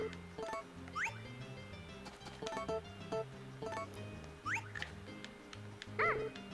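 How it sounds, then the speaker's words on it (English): A dog in the video game Harvest Moon: A Wonderful Life gives a few short, quiet yips and whimpers over looping game music, with faint background murmur. "Yeah, there's a doggy waiting for you."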